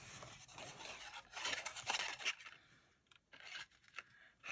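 Scissors snip and slide through card paper during handmade stamped card crafting, a close series of crisp, raspy cuts with short pauses between strokes.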